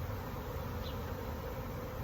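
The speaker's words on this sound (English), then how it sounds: "I got bees all in my face." Honey bees swarm around an open hive during an inspection, making a dense, steady buzz that stays close and constant throughout.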